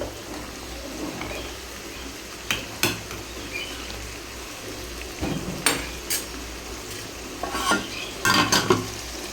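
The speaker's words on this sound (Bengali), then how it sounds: "তো দেখো মশলাটাও দিয়ে দিয়েছি, ভালো করে কষিয়ে নেব" Spice paste fries in a pan while a utensil stirs and scrapes, giving sharp irregular clinks over a steady low sizzle, with no talk.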